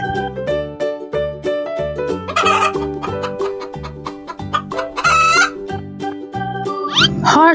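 Chickens clucking and a rooster crowing over bright, bouncy children's music, loud and continuous with repeated short calls.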